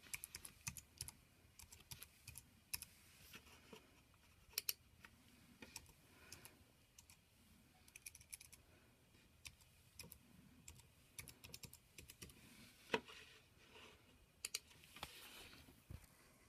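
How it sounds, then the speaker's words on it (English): A username and password being typed on a computer keyboard, heard as quiet, irregular clicking keystrokes in uneven bursts with short pauses, close up and fairly faint, with no talking. "Let me just type in my username and password."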